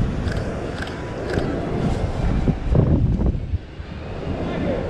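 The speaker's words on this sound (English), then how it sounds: "It's gonna be windy when I turn this way" Gusty wind buffeting the microphone on a street with a low, rumbling roar that swells in the middle, with faint voices underneath.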